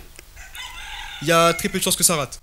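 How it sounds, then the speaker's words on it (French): A rooster crows once outside, down below, partly under a man's speech indoors. "là il y a un coq qui chante en bas"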